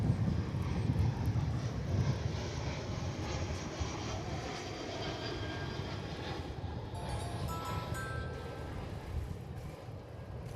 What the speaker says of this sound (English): Here comes American Airlines Flight 2846 from Salt Lake City. It's an Airbus A321, and it's our next arrival on Runway DFW.